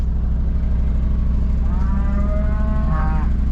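A cow moos with a long, wavering low call, joined near the end by another moo, over a steady rumbling fire truck engine idling nearby.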